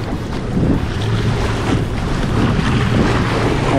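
Rough ocean waves wash around a fishing kayak off Hawaii, a continuous rushing churn of surf mixed with heavy wind buffeting the microphone, loud and unbroken throughout.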